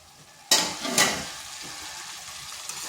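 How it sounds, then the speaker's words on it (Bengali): Pumpkin frying in a covered pan gives a sudden burst of close sizzling with a couple of stirring scrapes, then settles into a steady, quieter crackle. "এইভাবে ঢাকা দিয়ে কুমড়োটাকে ভেজে নিচ্ছি।"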